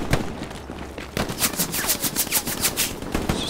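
Rapid bursts of automatic rifle and machine-gun fire in the World War II shooter Hell Let Loose, loud and close, a fast rhythmic string of shots after a brief quieter moment.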